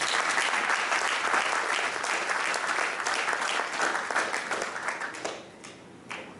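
A church congregation at a Sunday service applauds loudly for the Lord, dense sustained clapping from many hands that fills the room and then thins out toward the end.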